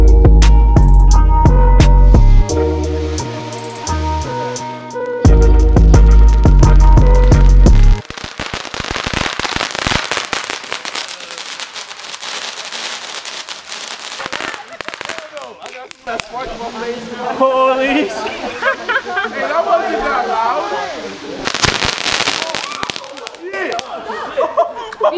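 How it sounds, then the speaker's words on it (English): Fireworks are lit and go off in a rapid string of sharp crackling pops and bangs for a sustained stretch, loud and close, with people talking and laughing around them after a music intro. "We're about to light some fireworks right now"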